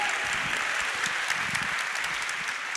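Audience applause at a live one-on-one event with Adam Kinzinger, a sustained, fairly loud burst of clapping from a crowd, heard on its own.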